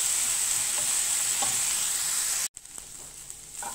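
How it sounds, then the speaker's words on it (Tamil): Boiled beetroot sautéing with onions and curry leaves in a pan for beetroot poriyal, a steady close sizzle with a few stirring scrapes, cutting off abruptly and resuming quieter. "இதில் போட்டு ஒரு 2-3 நிமிஷம் நல்லா வதக்கிக்கலாம்."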